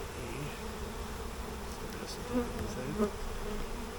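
A steady, dense buzz of many honeybees in a hive full of burr comb fills the clip, fairly close, growing louder, with a few individual bees droning louder as they pass.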